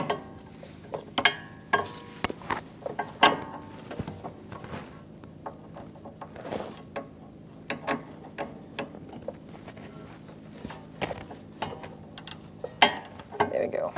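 A T30 Torx bit works a sway bar link nut on a Jeep Renegade while an 18mm wrench holds it steady, producing faint, irregular metallic clicks and ratcheting taps spread over several seconds with low background noise.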